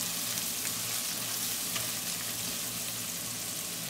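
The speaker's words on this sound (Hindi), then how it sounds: "इसको हल्का सा रोस्ट करेंगे।" Ginger and garlic lightly roasting in a pan with onions for restaurant-style chilli paneer, giving a steady, even sizzle and crackle of frying that holds at a constant moderate level throughout, with no talking.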